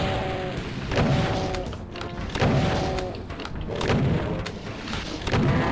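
Repeated rocket explosions in the Doom 2 custom map Woody's World, loud booming blasts arriving in uneven bursts roughly every second amid continuous game noise, with no voices.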